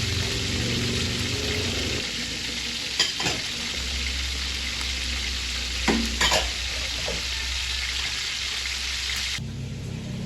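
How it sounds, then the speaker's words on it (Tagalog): Marinated milkfish (bangus) frying in hot oil, a continuous close sizzle and crackle with a few brief clatters of utensils. "iprito na po natin itong marinated na bangus from Ate Nels"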